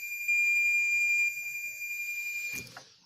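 A multimeter in continuity or diode-test mode beeps steadily while its probes touch a diode on a water purifier filter control board; the tone is a loud, continuous high beep held for about two and a half seconds, ending with a brief clatter.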